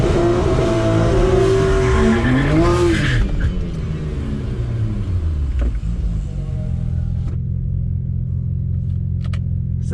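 A car fitted with new turbos launches in second gear, its engine roaring loud and close with a rising, wavering rev that settles into a steady low rumble as it pulls away. No one speaks.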